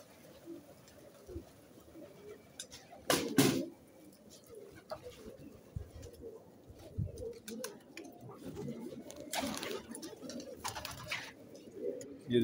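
Rangdaar pigeons of an old breed coo in low, soft, throaty murmurs throughout on a farm in Multan, with occasional wing flaps and rustling nearby and a few brief louder bursts.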